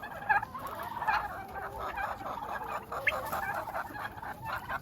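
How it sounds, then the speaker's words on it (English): Hens cluck and squawk close by, a silver phoenix hen making most of the noise in a busy run of sharp calls and chatter, with other chickens and turkeys calling in the background. "that one making all the noise is my silver phoenix female."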